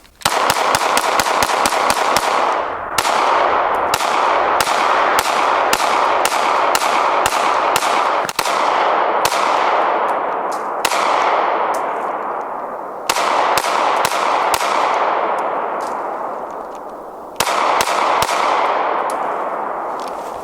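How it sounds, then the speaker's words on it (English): Gunshots from a 3 inch Smith & Wesson Shield Plus pistol ring out in rapid strings of sharp, loud cracks, each burst followed by a short pause before the next volley, with ringing decay between shots. "I think I'm shooting the 3 inch Shield Plus a little bit better"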